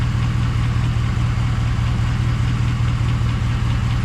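A Ram 1500 with the 8HP70 automatic transmission runs steadily at a low idle while being shifted through the gears, its close, continuous engine hum rumbling with no voices.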